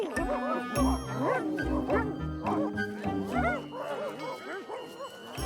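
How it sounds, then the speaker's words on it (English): A dog barks and yips in a Garfield cartoon, with repeated short, close barks and whimpers in an uneven rhythm over a busy, layered soundtrack. "I have to make sure that this collar doesn't hear any more dog barking."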